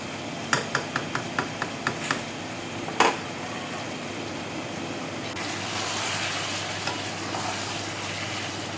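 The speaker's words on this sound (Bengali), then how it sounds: "এটাকে আবার আমরা ভালোভাবে একটু নেড়ে নেব।" Stirring ridge gourd and fish curry in a pan, with a run of sharp spoon taps against the metal at the start and a scrape, then a steady sizzle of the half-cooked gourd continuing alone.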